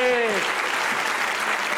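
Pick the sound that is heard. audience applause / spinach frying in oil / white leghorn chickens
audience applause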